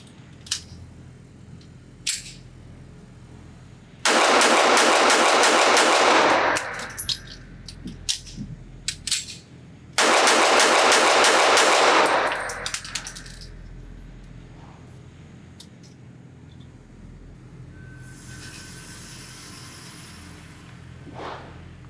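A Kahr CT380 single-stack .380 ACP pistol fires two loud, dense strings of rapid shots at a practical tempo on a range, separated by a pause for a quick magazine change, with handling clicks before and after.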